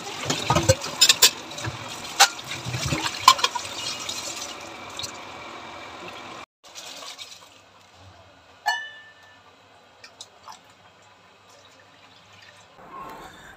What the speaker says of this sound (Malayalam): അങ്ങനെ പാത്രങ്ങളൊക്കെ എല്ലാവരുടെയും ബ്രേക്ക്ഫാസ്റ്റ് കഴിഞ്ഞതൊക്കെ ഒന്ന് കഴുകിയെടുക്കട്ടെ